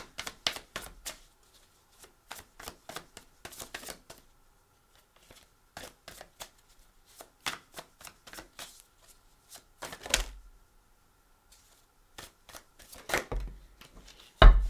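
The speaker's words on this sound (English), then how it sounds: "Let's get the last card out here." Tarot cards being shuffled and handled in a quiet room, with scattered crisp riffles and snaps in irregular bursts, close and fairly loud, and no talk over them.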